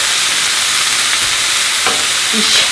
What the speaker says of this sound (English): Now let's just add the garlic in and turn that heat down to low and give it a nice swirl round